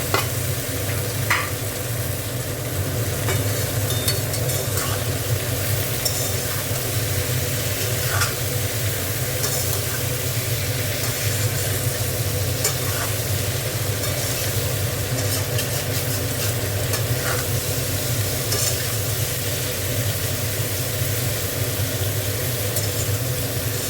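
Potatoes fry in a pan while being stirred, giving a steady close sizzle with recurring scraping stirs throughout and no voices.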